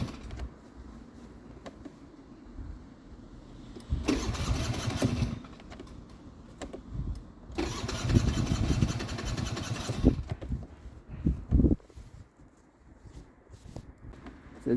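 Engine of a 2001 Hyosung Sense motorcycle running unevenly, a low idle broken by two long throttle bursts and a short rev before sagging back, close by.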